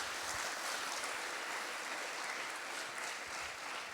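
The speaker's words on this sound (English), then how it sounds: "Another round of applause." Steady, dense applause from an audience at a forum on global hunger held in a seminary, filling the whole stretch evenly at moderate level with no voices over it.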